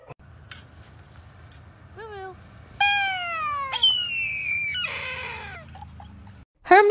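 A small cat gives a few soft, rising-and-falling meows in short bursts, quiet and close, with a high squeak near the end and no talking.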